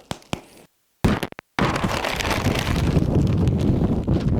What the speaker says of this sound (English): it's too windy out here for that